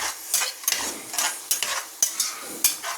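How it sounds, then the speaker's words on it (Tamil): Madurai-style restaurant mutton chalna masala is sautéed in a pan, with repeated rhythmic stirring strokes and sharp scrapes of the spoon over a low sizzle. "இது நல்லா வதக்கிக்கோங்க நல்லா வதங்கணும் நல்லா வதங்க விடுங்களேன்"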